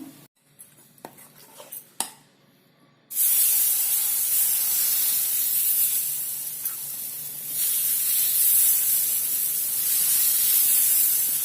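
After a few faint kitchen clinks, batter mixed with soda hits a hot pan and a loud, steady sizzling hiss bursts in suddenly, lasting to the end with a brief dip midway.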